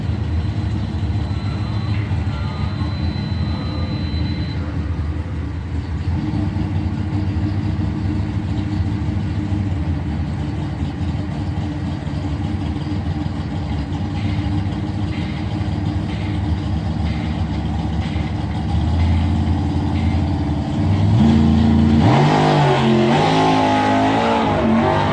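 Engine of a 1979 Chevrolet Camaro doorslammer drag car at a drag racing event, a loud steady idle rumble that swells into a rougher, rising roar near the end.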